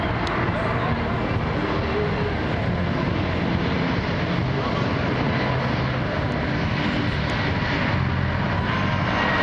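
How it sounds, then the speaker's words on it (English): Korean Air airliner taking off from Toronto Pearson, its jet engines roaring loud and steady throughout as broadband thrust noise fills the scene, with faint voices of onlookers beneath. "Oh, that is loud. Here we go. Korean Air is going."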